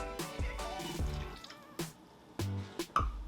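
Water trickles and drips into a bowl of salt in several short pours, close by and fairly quiet, with no talking.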